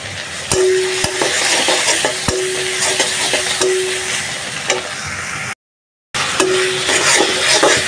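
Meat stir-frying with whole spices such as cardamom, cinnamon and cloves in a pan, a steady close sizzle with scraping stirs and occasional utensil clinks, continuous apart from a brief gap.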